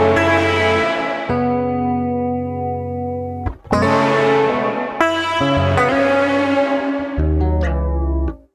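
Electric guitar played through a Quad Cortex effects unit, ringing sustained chords with a distorted, chorused and echoing tone, struck in several separate loud strums that bloom and decay, with no talking.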